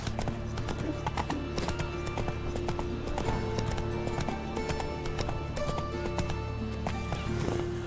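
Roach, a horse in The Witcher 3, gallops with steady rapid hoofbeats over a dense game soundscape with music, plus a brief whinny, sustained and fairly loud throughout.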